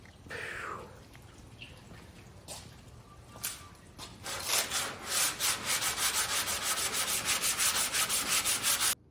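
Durablock sanding blocks rubbed over the body panels of a 1952 Ford Ranch Wagon, starting as sparse scrapes and building into steady, close, rhythmic strokes in the second half.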